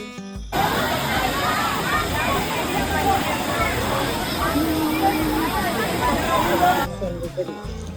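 Steady roar of water pouring at Vattayi waterfall, a crowded bathing spot, with a constant wash of rushing noise and a murmur of many voices mixed underneath throughout.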